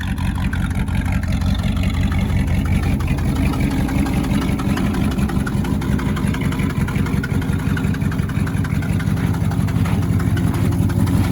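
Ford Highboy truck engine idling after a cold start in a snowbank, a loud, continuous rough rumble with a steady throbbing rhythm and no talk over it.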